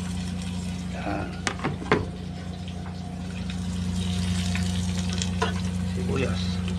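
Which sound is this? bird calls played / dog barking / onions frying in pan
onions frying in pan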